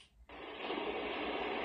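A fire crackles from a sound machine out of sudden quiet, a steady hiss peppered with small pops that keeps going to the end.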